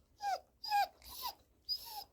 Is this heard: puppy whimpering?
yes